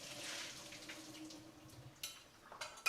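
Water from boiled potatoes pours out through a strainer in a kitchen, a soft continuous splashing rush followed by a few sharper clatters and splashes near the end.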